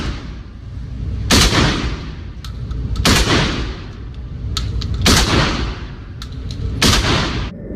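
A Panzer Arms AR-12 semi-auto shotgun fires four loud, booming shots spaced about two seconds apart, each with a sharp crack and a long rumbling tail over continuous outdoor background noise.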